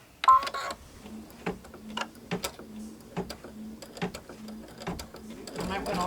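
A sewing machine stitches fabric for a patriotic pinwheel quilt block pillow, running in short mechanical bursts with brief pauses between them, and a voice talks lightly through parts of it.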